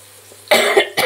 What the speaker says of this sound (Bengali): কাশিটা আমার এখনও কমেনি।